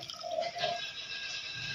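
Water runs and trickles softly into a pot of chicken dum biryani, a faint, steady pour with light splashy drips close by and no talking.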